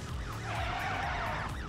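Police car sirens in the racing video game Need For Speed World, several wailing sirens overlapping and sweeping up and down against a low engine rumble.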